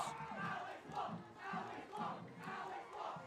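A high school football crowd at a varsity game cheers in rhythmic swells, rising and falling roughly every second like a chant, moderately distant and without talk.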